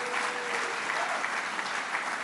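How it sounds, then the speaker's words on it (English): Steady, dense applause fills an awards ceremony hall at the Eclipse Awards, sounding somewhat distant and even throughout. "Brittany Erton and Lindsay Zarniak, please give a round of applause for their efforts tonight"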